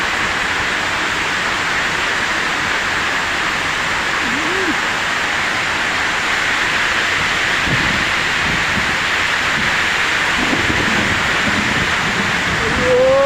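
Heavy rain pours down at a work site too wet for welding, a constant loud hiss of downpour with faint voices murmuring underneath.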